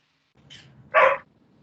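A dog lets out one short, sharp bark nearby, preceded by a quieter yip, in an otherwise quiet room with no talking.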